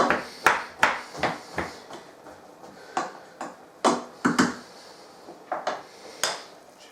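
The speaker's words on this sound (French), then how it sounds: "Et avec une cuillère en bois, on remue." A wooden spoon stirs thick fruit compote in a hot pot, knocking against the sides in a steady series of close, clacking taps with soft scraping between them, with no talk.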